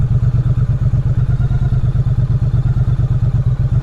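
A 2017 Triumph Street Cup engine idling with the clutch pulled in, a close, loud, even low thumping pulse with a light mechanical clatter, steady and alone.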